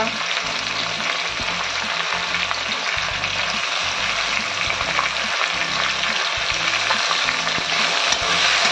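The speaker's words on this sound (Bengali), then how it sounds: "এইগুলো দিয়ে কষাতে হবে, এইভাবে তেলে কষাতে হবে।" Onion, tomato and green chilli fry in oil, giving a continuous dense sizzle with intermittent stirring scrapes throughout, close and fairly loud, with no talking.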